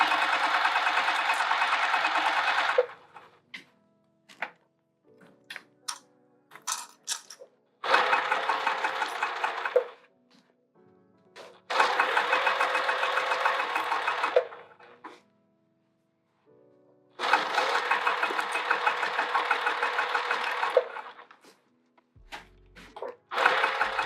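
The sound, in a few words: sewing machine stitching a bucket tote bag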